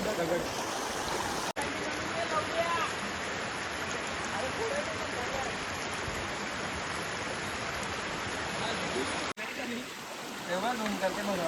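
Steady rushing water flows continuously, a broad close hiss with faint voices at the start and end.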